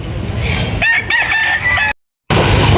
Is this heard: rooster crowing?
yes